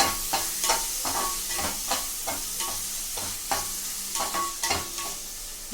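Masala paste frying in a pan for chicken curry, a steady close sizzle broken by regular scraping stirs of a spoon, repeated every half second or so, with no voices.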